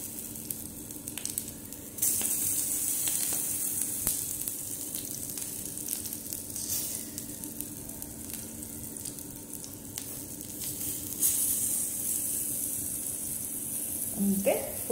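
Brinjal pieces fry in oil in a tiny miniature pan for a Konaseema-style begun bhaja, a steady soft sizzle with occasional sharper crackles and clinks throughout.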